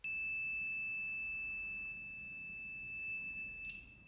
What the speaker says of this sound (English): touch the both probe and you will hear the beep sound.